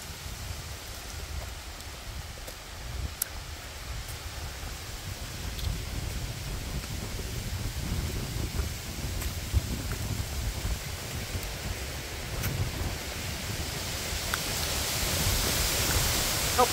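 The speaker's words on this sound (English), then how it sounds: "It is windy today." Steady, broad rushing of wind buffeting the open air on rocky bluffs at Garden of the Gods, Shawnee National Forest, Illinois, growing a little stronger toward the end, with no voices.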